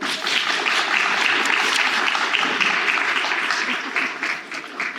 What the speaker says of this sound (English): Let's give Christina another round of applause.